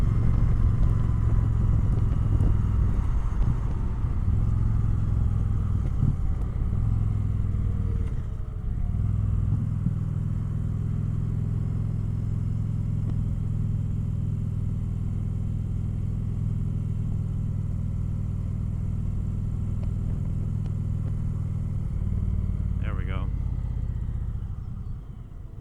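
A 2025 Indian Chieftain Powerplus Dark Horse motorcycle cruises in sixth gear with a steady, deep engine drone and wind rumble that hold for the whole stretch, while the rider talks over it.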